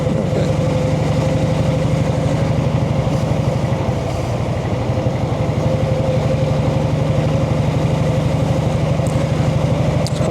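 A Brough Superior motorcycle engine chugs along at low revs around 20 mph, a steady loud rhythmic pulsing throb with a constant hum running unbroken throughout, no voices.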